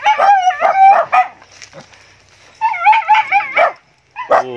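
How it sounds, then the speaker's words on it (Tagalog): Several dogs outdoors at an abandoned house bark, yip and whimper in short loud bursts, with a quieter gap in the middle before the barking resumes. "mga aso."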